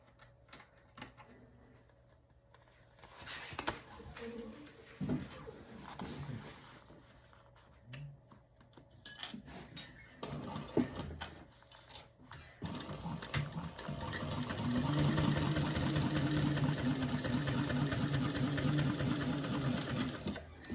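Sewing machine top stitching a bag, starting with short stop-start bursts and handling clicks, then running in a long steady close rattle for the final stretch; no speech.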